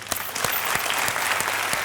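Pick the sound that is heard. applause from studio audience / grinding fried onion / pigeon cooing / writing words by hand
applause from studio audience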